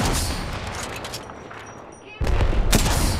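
Rapid gunfire in an Apex Legends fight, loud bursts of shots starting at once, easing for a moment and then resuming heavily, with a voice talking briefly amid the firefight.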